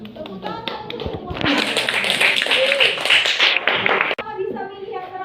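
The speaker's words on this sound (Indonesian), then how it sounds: "Tepuk tangan untuk semua." A secondary-school class applauds everyone together, a loud burst of many clapping hands lasting a few seconds, preceded by a few scattered claps and children's voices, and followed by quieter speech.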